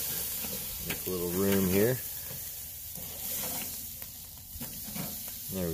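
Pork chops searing on a Weber Kettle grill with a Slow n Sear, giving a steady, close hiss of fat and heat that runs throughout while someone talks briefly over it.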